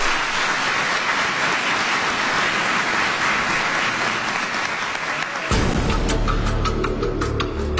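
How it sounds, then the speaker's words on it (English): Loud, sustained clapping from a large crowd fills the clip, a dense patter that grows fuller and brighter toward the end. "Give them a big round of applause."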